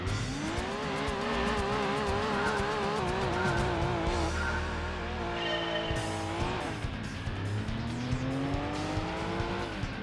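Race car engines rev and whine continuously in Gran Turismo 2 during a short Clubman Stage Route 5 one-make event for Daihatsu and Suzuki cars, with rising and falling gear pitches and tire squeal over a steady loud roar.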